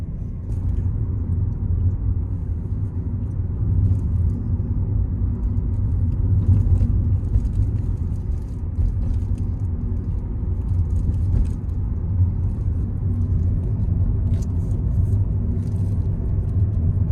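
A car is driven along roads north of Taunton, England, with a steady low engine and tyre rumble and faint rattles filling the cabin continuously, no talking.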